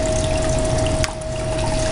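Water gushes steadily over a gold mining blue bowl, washing dirt down into it, with a brief splash partway through the two-second stream.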